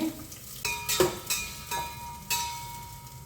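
Onions and green chilies frying in a pan for chicken biryani, a steady close sizzle broken by several sharp stirring scrapes and clinks of a spoon against the pan.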